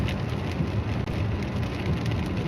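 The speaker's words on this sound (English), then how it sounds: "It's raining. The rain does not want to stop." Rain falling in a steady, dense patter of drops striking surfaces, even and close throughout with no thunder and no voices.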